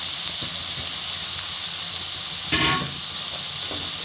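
Grated beetroot and carrot sizzling in hot oil in a pan: a steady bright hiss that holds throughout, with a brief louder crackling burst midway and no talking.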